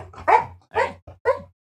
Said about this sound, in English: He's just laying there barking.